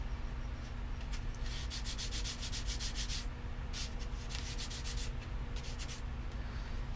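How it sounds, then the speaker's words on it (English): A wooden propeller is hand-sanded in repeated rhythmic strokes, a dry scratchy rasp that comes in bursts with short pauses, close and steady with no talking. "I'm putting on it as I flex it here to get it sanded"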